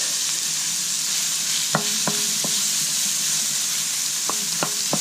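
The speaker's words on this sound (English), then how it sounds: "And you want to saute that a little bit over medium-high heat." Onions sauté for picadillo over medium-high heat, a constant loud sizzle with a handful of light utensil clicks near the middle and end, no voices.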